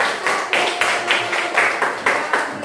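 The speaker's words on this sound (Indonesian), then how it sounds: "tepuk tangan buat kelompok" A classroom of students claps for a presenting group, a fairly small gathering producing light, rhythmic bursts of clapping at a steady beat, moderately near and not very loud.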